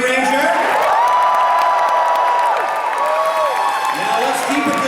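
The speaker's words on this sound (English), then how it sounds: "where's my round of applause for Michael Tabor" Convention crowd at a Power Rangers panel applauding and cheering for a cast member, a loud, dense roar of clapping with whoops, while an amplified announcer talks over it.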